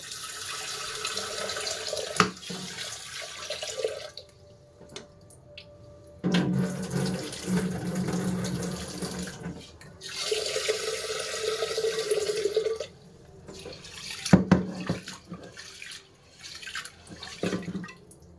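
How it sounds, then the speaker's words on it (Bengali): Tap water runs and splashes into a bowl as lentils (dal) are rinsed in a home kitchen, close by, in several bursts separated by quieter pauses with clinks and handling sounds. "এই যে ডালটা ধোবো।"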